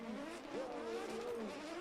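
Drift car on the Muscat circuit during a qualification run at the Oman International Drift Championship, its engine holding a steady high, wavering rev tone for the whole moment, loud and continuous with a slight pitch sweep mid-run.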